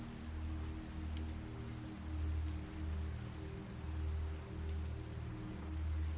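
Steady rain falls on a surface in a continuous, moderately loud wash with scattered drop impacts and a low rumbling undertone that swells and fades, and nobody speaks.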